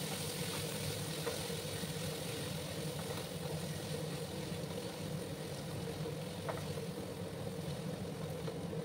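Ginger, garlic and green chilli paste frying in a pan for a Bengali chana dal, a steady, even sizzle that holds unchanged throughout with no talk over it.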